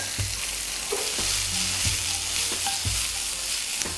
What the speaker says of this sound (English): You can hear that fantastic sizzling.